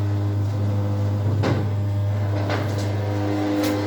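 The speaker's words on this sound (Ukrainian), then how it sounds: "Маніпулятор. Все, у нас працює маніпулятор." A 12V hydraulic power unit runs a crane manipulator off an inverter, giving a steady droning motor hum with a constant low tone. A few sharp knocks and clunks sound over it.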